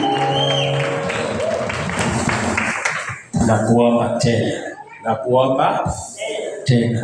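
A church congregation at a Swahili-language service ululates and cheers together: loud, dense crowd sound with high warbling voices that carries for about three seconds, dips briefly, then returns in shorter bursts.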